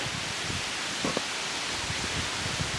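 Heavy rain from Hurricane Florence pours steadily outside by a front porch, a dense, constant hiss with little wind and a few faint knocks close by.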